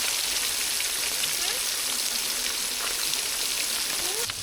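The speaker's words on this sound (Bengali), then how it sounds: "মাছ এক পিঠ ভাজা হয়ে গেছে," Pieces of katla fish fry in hot oil with a dense, even crackle like heavy rain, close and steady throughout.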